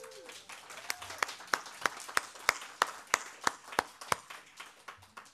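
A church congregation claps in unison, producing a regular beat of sharp, crisp claps about three per second that build and then stop. A faint tonal sound is heard near the start.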